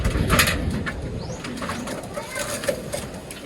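Young racing pigeons, around five months old, coo softly near a loft amid background noise, with a few brief chirps and a faint voice in the mix.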